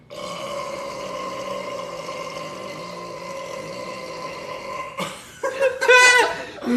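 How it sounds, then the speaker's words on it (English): A man lets out a long, loud, drawn-out burp with a droning tone, followed by a brief gap and a rougher, gurgling second burp near the end. "I'm gonna burp in front of my grandpa and see what he does"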